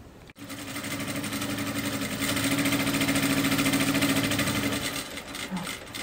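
A sewing machine stitches a fabric Bible holder at a steady close, rapid mechanical clatter, starting after a short click and running continuously before slowing slightly near the end.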